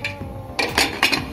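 A pressure cooker lid is fitted and locked shut over a gourd and lentil dish, with a few sharp metallic clanks and scrapes of metal on metal, close and fairly loud.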